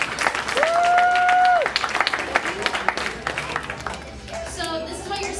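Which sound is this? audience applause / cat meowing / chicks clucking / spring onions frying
audience applause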